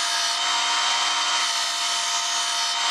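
A belt sander fitted with a 60 grit belt grinds an old metal putty knife into shape, giving a loud, close, continuous abrasive whine that holds steady throughout.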